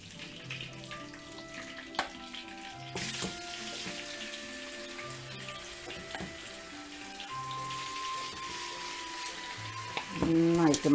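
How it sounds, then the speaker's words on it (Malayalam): Curry leaves splutter in hot oil as a continuous, close, hissing sizzle, with faint tonal sounds in the background. "കറിവേപ്പിലൊക്കെ പൊട്ടിത്തെറിക്കും, അതിൽ വെള്ളമുണ്ട്."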